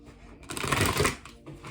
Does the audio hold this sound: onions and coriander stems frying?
no